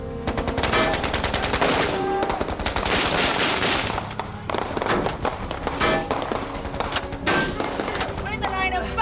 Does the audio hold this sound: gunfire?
yes